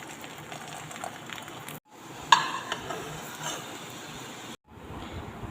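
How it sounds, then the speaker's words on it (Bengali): A paratha fries in oil with a close, steady sizzle and a few utensil clanks, broken by two brief silent gaps. "তেলের মধ্যে পরোটা ভেজে নিচ্ছি।"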